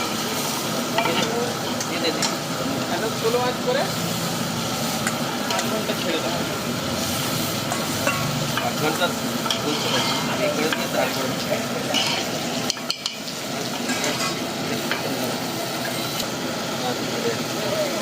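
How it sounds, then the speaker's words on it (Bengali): Ground spice masala of garam masala, sauce, coriander, cumin and mutton masala sizzles and fries steadily in a large pan for a big mutton curry, with continuous close stirring and scraping throughout. "মশলা খুব ভালোভাবে ভাজা হয়ে গেছে।"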